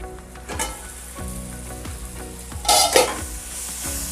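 Onion and tomato pieces with salt sizzle softly in a pan for bhindi curry, punctuated by a few spoon stirs and a louder metallic clatter partway through as the lid goes on, close-up and without voices.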